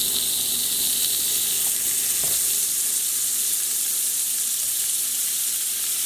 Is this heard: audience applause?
no